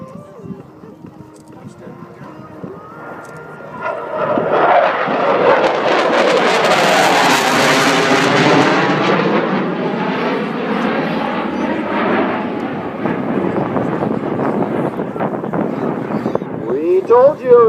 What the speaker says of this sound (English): CF-18 Hornet.